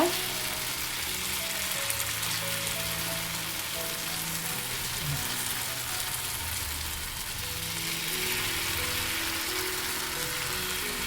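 Carrot batter sizzles and fries steadily on a non-stick pan, a continuous close crackling hiss that holds at an even level throughout, with no talk heard.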